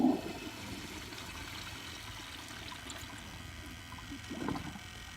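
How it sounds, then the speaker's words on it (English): An American Standard Allbrook toilet flushes with the water pressure turned up, a quiet, steady rush of draining water that swells briefly again near the end. "But yeah, let's just turn the pressure up a little bit more and give it another flush."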